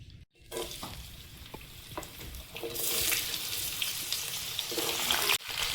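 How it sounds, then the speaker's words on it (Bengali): Steady sizzle of potatoes frying in a hot pan that swells louder, with occasional stirring scrapes and clinks. "আলু ভাজাটা বসিয়ে দেবো।"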